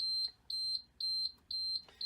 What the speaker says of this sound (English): Low air pressure warning flagger light and the buzzer activates